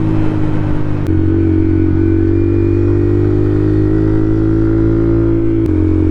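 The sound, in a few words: Honda Monkey bike with Yoshimura exhaust riding at speed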